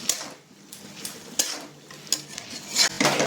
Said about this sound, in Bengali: ভালো করে নাড়িয়ে নিই।